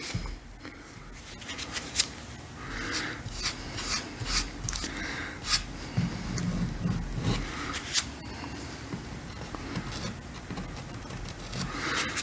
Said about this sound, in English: I'll come back over it with a little sandpaper and get it better.